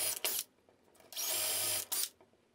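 A power drill bores 1/8-inch holes along the top of a wooden base for a homemade third-hand soldering tool, in three short close whirring bursts, the middle one longest, separated by quiet pauses.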